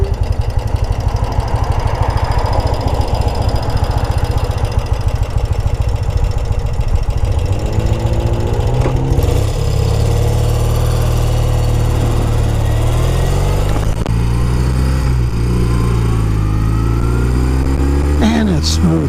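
Restored 1971 BMW R60/5 motorcycle with its boxer-twin engine idling, a loud, steady, smooth low throb with close wind buffeting, the tone shifting as the revs change partway through.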